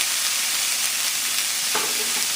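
Beef and mushrooms sizzling in a stir fry with orange and ginger sauce, a dense steady frying hiss with a brief stirring clink near the end.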